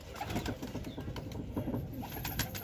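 Domestic pigeons coo close by in low, rolling, overlapping calls that pulse steadily throughout, with no talking.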